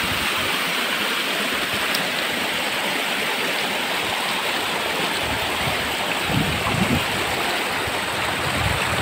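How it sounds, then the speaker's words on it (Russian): A mountain river near Lermontov rock in Kislovodsk rushes close by, a loud, steady broadband roar of turbulent water that holds without pause throughout. "Как вам речка?"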